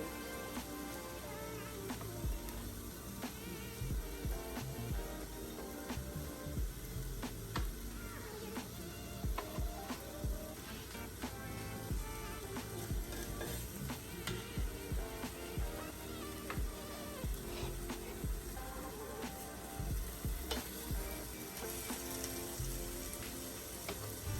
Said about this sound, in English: This is the fry doing those small meatballs.